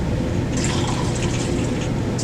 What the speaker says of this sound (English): And you're going to carefully pour the Hypo